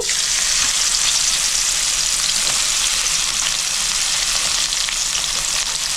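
Drumstick (sojne data) pieces fry in hot oil with turmeric and salt, a loud, dense, continuous sizzle heard up close with no pauses.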